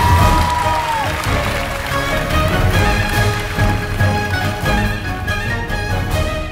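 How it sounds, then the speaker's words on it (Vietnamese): A studio audience at a Vietnamese Lunar New Year comedy show claps loudly and continuously, a dense wash of applause that holds steady for several seconds. "chúng ta vỗ tay cho tình huống vừa rồi"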